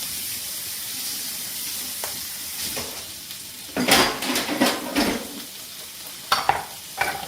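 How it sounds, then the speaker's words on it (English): Chickpeas sauté in oil and butter in a pot, giving a steady close sizzle while a utensil scrapes and stirs in bursts, with clinks against the pot. "Putting the chickpeas in the oil and the butter."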